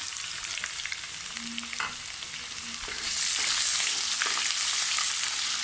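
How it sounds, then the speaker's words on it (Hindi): Onions frying in a spoonful of oil in a pan give off a steady, close sizzle with faint stirring scrapes. Partway through, the hiss swells louder and brighter. No one speaks over it. "पैन में 1 चम्मच हमने ऑयल डालना है और उसमें हमने प्याज डाल देना है और हल्का सा ब्राउन करके"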